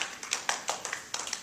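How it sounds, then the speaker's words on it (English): A small classroom audience claps for a student skit. The applause is faint and sparse, a few separate claps in quick uneven bursts. "Give her a round of applause."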